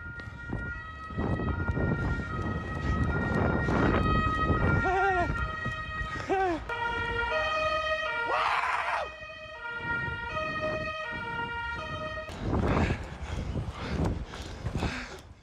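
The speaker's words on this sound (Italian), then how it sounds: "pure sirene" Wailing police sirens sound loud and close over busy street noise, rising and falling in continuous sweeping tones, with a short burst of shouting voices in between.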